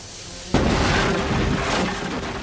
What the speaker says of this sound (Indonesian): kita dapat melihat dinamit itu meledak dan menghancurkan pagar pembatas itu